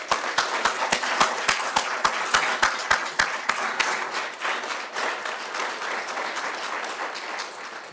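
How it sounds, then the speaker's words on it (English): Audience applause at a paramedic class graduation, opening with sharp, rhythmic unison claps for a few seconds before loosening into a steady, scattered wash of clapping that fades slightly toward the end. "I'd like us all to take a moment to acknowledge this amazing accomplishment by giving them again a round of applause."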